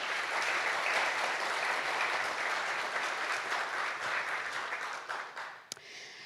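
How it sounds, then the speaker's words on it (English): An audience applauds panelists at an event about the Las Vegas police, with dense, sustained clapping that holds steady and then tapers off near the end. "Please give each of our panelists a round of applause."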